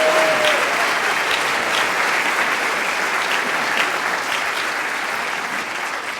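An audience at an Ig Nobel Awards roadshow debate in a hall at Imperial College London applauds loudly to cast its vote, a dense, steady wash of clapping lasting several seconds that fades slightly near the end.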